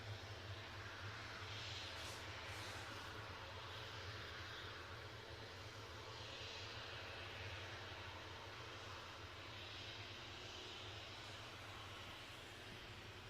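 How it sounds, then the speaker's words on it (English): A Boeing 787 Dreamliner departs Edinburgh airport for Toronto through lingering tyre smoke, heard as a steady, distant jet roar that holds level for the whole stretch with no voices. "still working its way through the smoke from that 767, or the rubberized smoke, is our Dreamliner on its way back to Toronto"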